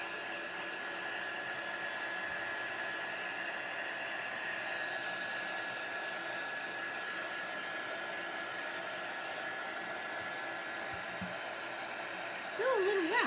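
Steady whirring hiss of a hot-air tool blowing continuously at moderate level, with a brief voice near the end.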